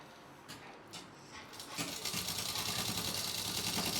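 A sewing machine stitches a suit on drafted fabric, starting with a few short bursts and then running steadily at close range with no talk.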